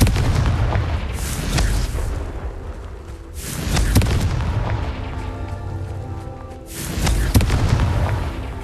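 Explosions from the Confringo fire spell in Hogwarts Legacy boom heavily three times, each blast loud and close with a rumbling tail that fades out before the next.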